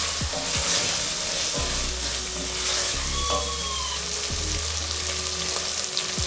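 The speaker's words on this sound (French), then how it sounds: "Je mélange maintenant très bien." Shrimp makwala broth with garlic powder stirred in, a loud continuous sizzle and bubble with occasional spoon knocks against the pot, close and alone.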